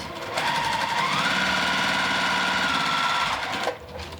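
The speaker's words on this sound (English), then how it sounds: "We're going to sew a 1/4 inch off that line." Sewing machine stitching a quarter-inch quilt seam while chain piecing, a steady close whir of rapid needle strokes running continuously for several seconds before stopping abruptly.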